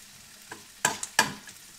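Onion with a pinch of salt and sugar stirred in a hot pan for an udon dish, a few sharp scraping strokes over a faint sizzle, close and isolated with no talking.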